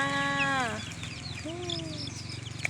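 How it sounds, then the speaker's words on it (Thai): Young laying-hen chicks, a batch of about ten, cheep and cluck in a few short, high calls close by. A soft low voice murmurs underneath. "อันนี้เป็นไก่ไข่นะคะ เราจะเอามาเลี้ยงนะคะ"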